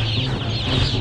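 A dense chorus of many chickens clucking and murmuring together, loud and close, filling an enclosed space: an industrial poultry house holding tens of thousands of chickens.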